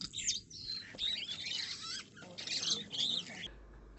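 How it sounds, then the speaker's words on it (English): Birds chirp and call in the trees of the Maasai Mara in Kenya, a busy layer of bright tweets and short calls at moderate distance, fairly faint against open-air background hiss. "listening to the trees, to the birds."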